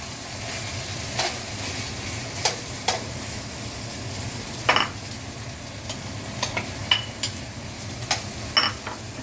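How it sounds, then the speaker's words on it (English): Onions cook down in a pan for caramelizing, giving a soft, low background sizzle with scattered light clinks and scrapes of a utensil stirring now and then. "Now in this, I will caramelize my onions."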